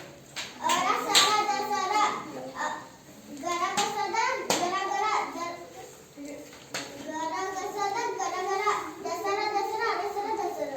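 Schoolchildren in a classroom clap together in a rhythmic pattern while their young voices chant along, the claps sharp and repeated beneath continuous children's speech.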